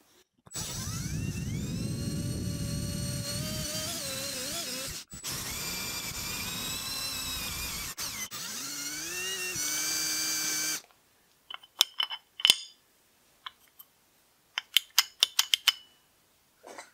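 A step drill bit bores through aluminum with a steady whining drone that rises in pitch as it cuts, briefly stopping and restarting, then gives way to scattered sharp clicks and rattles of handling, close and with no speech.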